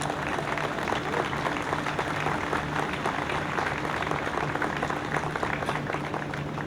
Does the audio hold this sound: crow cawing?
no